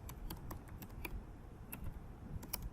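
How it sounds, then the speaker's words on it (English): Close, quiet typing on a computer keyboard, a run of light irregular key clicks with a few sharper taps, and no voice over it. "I'm gonna type something"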